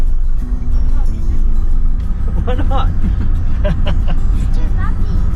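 A car drives along a bumpy outback dirt track, its engine and road rumble steady and loud throughout, with rattles and jolts in the cabin while people talk and exclaim over the noise.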